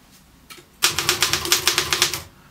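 A Royal KMM manual typewriter struck in a quick run of about a dozen sharp, loud key strikes, each a distinct metallic clack, after a softer mechanical click at the start.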